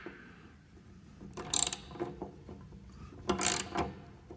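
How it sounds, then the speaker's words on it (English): A ratchet tightening a bolt into a frame rail nutsert gives quiet clicking turns, with two sharper metallic bursts of ratcheting clicks up close. "all you're going to do is start tightening the ratchet"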